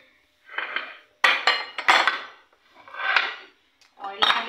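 Egg being beaten in a bowl for chicken patty mix, a utensil clinking and scraping against the bowl in several quick bursts with short pauses between, close and fairly loud, no talk.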